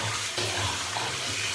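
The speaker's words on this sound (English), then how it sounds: "it takes forever to empty this sink out" Water drains slowly out of a bathroom sink after shaving, a continuous close gurgling wash with no pauses.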